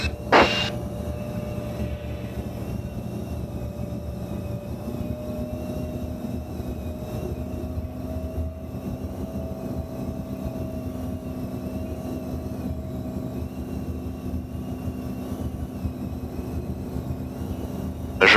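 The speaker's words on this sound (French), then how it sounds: "Je le sens pas, je remets les gaz." A light aircraft engine powers up for a go-around during circuits at LFMA, a continuous propeller drone that shifts to a higher, stronger tone partway through, steady and close with no voices.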